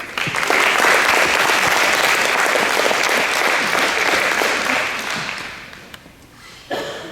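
A school board meeting audience applauds in a sustained, dense round of clapping that stays loud for several seconds, then thins out and fades, with a few last claps near the end.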